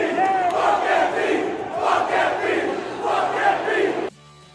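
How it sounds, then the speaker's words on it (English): Knicks fans at Madison Square Garden boo Joel Embiid, a loud sustained crowd roar of jeers filling the arena, cutting off sharply near the end. "the Madison Square Garden crowd wasn't shy about letting last season's MVP know how they felt about him again, as they showered him with a chorus of boos"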